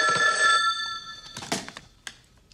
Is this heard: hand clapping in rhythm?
no